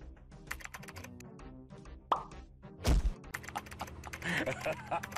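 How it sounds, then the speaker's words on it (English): Clicks and taps from a computer keyboard rattle in quick irregular bursts, close and fairly busy, interrupted by a couple of sharper thumps, over game-like background sounds in a Minecraft session. "sorry, I was typing a long message"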